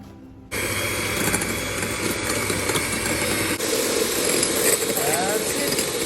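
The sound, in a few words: whisking egg white for Welsh rarebit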